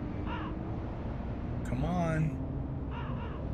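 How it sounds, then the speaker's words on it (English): A crow caws once in a video game, a harsh call rising over game sound and a voice talking before and after. "there's gonna be a crow that spawns from this, and he's gonna try and knock you off this thing"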